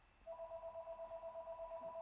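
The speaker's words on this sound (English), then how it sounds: "I don't know why this phone is ringing" A telephone ringing indoors, a steady electronic two-tone ring holding for nearly two seconds at moderate level, with no one speaking over it.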